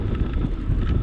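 Gusty wind buffets the microphone on a cold bike ride in a steady, rough, low rumble.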